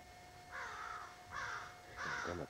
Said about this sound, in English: Them are crows.